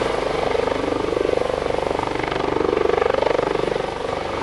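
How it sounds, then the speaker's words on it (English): Aérospatiale Dolphin Coast Guard search and rescue helicopter with a main rotor about 39 feet across, close and loud during an airshow demonstration, a steady rapid rotor thump under a broad whine with no pauses. "this Dolphin helicopter is manufactured by Air Spatial."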